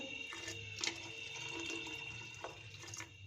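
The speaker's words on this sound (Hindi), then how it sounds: "1 गिलास पानी डाला है।" A glass of water pours steadily into a pot of thick split green moong dal, a soft continuous splashing and gurgling, close and fairly quiet, with no talking.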